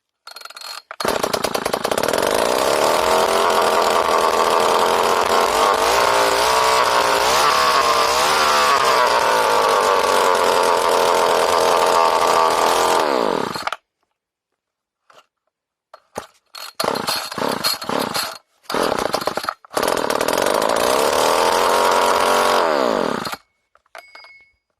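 A modified weed eater engine with low compression buzzes loud and close, revving and shifting pitch for a long stretch, cutting out, sputtering in short bursts, then roaring again before it stops.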